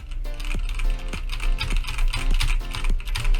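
Rapid, even keystrokes on a tenkeyless mechanical keyboard with brown tactile switches, a tactile, muted clack, recorded up close with no talking.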